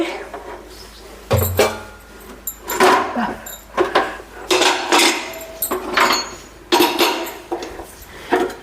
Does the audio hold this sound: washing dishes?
yes